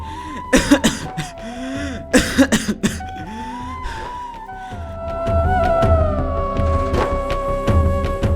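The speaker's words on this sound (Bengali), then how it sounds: "আজ একটু কাশিটা বেড়েছে" Several harsh, close coughs come in short bursts, followed by throat clearing, with a sustained musical tone underneath.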